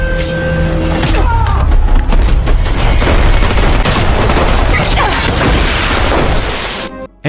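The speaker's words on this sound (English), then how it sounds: "Anna climbs up to the vent and escapes from the room while Duquette and his men keep firing at the ceiling." Loud, sustained automatic gunfire from a film scene where men fire at a ceiling, a dense rattling barrage with crashing impacts that lasts several seconds before cutting off abruptly.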